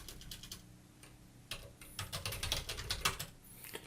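Keys on a computer keyboard clatter in uneven bursts while text is entered into CorelDraw, soft isolated taps giving way to a quicker, louder run of strokes.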